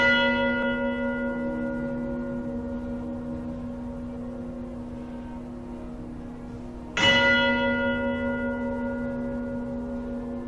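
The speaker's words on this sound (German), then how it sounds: "wenn Glocken innerhalb der Strukturen läuteten" Bells ring inside a structure. A sustained, resonant tone slowly fades, then a second strike sets off a fresh loud ring that decays gradually again. No voices are heard.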